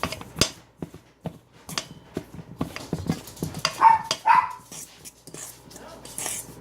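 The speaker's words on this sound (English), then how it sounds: "Those are the dogs." Pet dogs, Bella and Frenchie, give a couple of sharp barks mid-scene, with clattering and knocking in a home kitchen around them.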